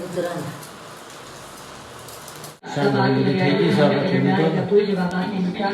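Steady rain falls in Patan, Gujarat, a soft broadband hiss that carries on under a voice, which starts speaking loudly partway through and then talks continuously over the rain.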